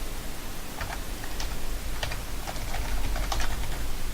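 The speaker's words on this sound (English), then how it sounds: "So I'm going to type this one today." Computer keyboard typing, steady light key clicks in quick irregular bursts, close up over a faint background hiss, with no voices.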